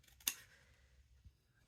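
Fabric scissors are handled during papercraft with a die set, giving one sharp snip or clack followed by a faint knock, quiet and close in an otherwise still room.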